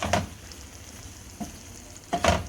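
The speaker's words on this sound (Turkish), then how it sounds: "Yumurtaları da hemen karıştırıyoruz iyice." Eggs being stirred in a frying pan, with two scraping strokes over a soft, steady sizzle, close and fairly quiet with no talking.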